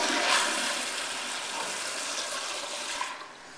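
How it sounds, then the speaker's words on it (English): A 2000s Kohler Highline Pressure Lite toilet flushes with a loud rushing surge of water that gradually eases, then drops off near the end. "It's an okay flush."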